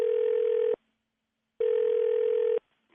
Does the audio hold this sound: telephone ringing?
yes